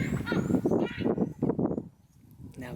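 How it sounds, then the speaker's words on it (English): Baboons squawking during a hunt in the African bush: a run of harsh, rapid barking calls fairly close, pulsing in quick bursts, then a short lull and one more call at the end. "Now the baboons are squawking at us."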